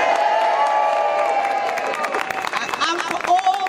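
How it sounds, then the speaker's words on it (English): A crowd at an NHS march and rally cheers and claps, a brief mix of shouts and applause rising over the sound of a person speaking to them. "So we have a cheer for everyone who's in the NHS."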